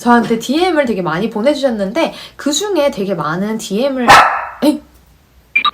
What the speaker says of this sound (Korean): 우리 강아지가 지금 짖고 있네